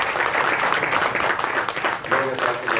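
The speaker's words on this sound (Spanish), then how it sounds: "Denle un fuerte aplauso a nuestro Señor" Church congregation applauding after a prayer, a dense, loud burst of clapping throughout, with a voice faintly heard near the end.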